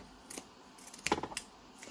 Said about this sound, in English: So I'm just clipping the edge as I go.